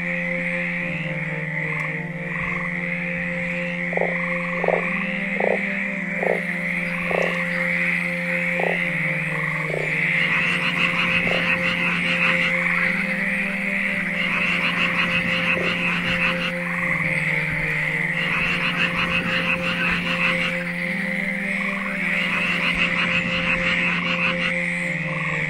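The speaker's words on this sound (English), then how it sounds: "Alice adored frogs." Frogs croak steadily throughout, a dense chorus of repeated calls with several distinct louder croaks standing out near the start, close and continuous with no talking.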